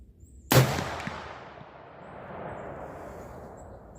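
A single sharp gunshot from a Smith & Wesson 1854 lever-action rifle being sighted in outdoors, loud and abrupt, followed by a long rolling echo that slowly fades.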